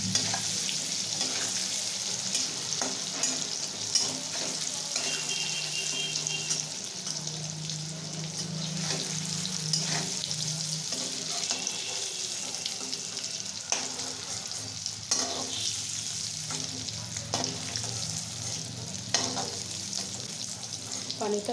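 Paneer frying in hot oil in a home kitchen, giving a continuous close sizzle with scraping stirs throughout and occasional clinks of the utensil against the pan.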